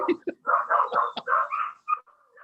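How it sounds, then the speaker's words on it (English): Dogs bark and yip indoors during a live online conversation, a close, loud run of short barks with whimpering tones, then a few fainter yips trailing off. "I'm gonna try and quiet my dogs down"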